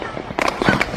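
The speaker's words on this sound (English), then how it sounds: "How you got fireworks and lighting at the same time?" Fireworks burst in a short, noisy volley, with sharp broadband pops and crackles standing out over a busy background that may include faint voices.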